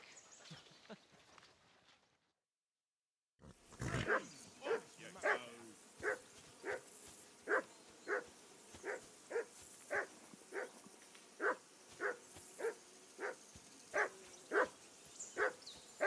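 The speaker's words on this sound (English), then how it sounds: "I assume you can hear that damn dog of yours barking." A dog barks repeatedly in the video game Kingdom Come: Deliverance II, evenly spaced sharp barks at a moderate distance after a brief silence, with faint voices early on.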